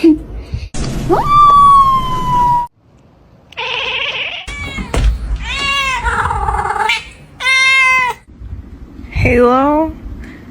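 A cat gives several loud, drawn-out meows and yowls with rising and falling pitch, separated by short gaps, with people talking in between.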